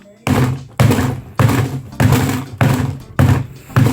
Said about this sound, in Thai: ทุบแบบแรงเลยนะครับ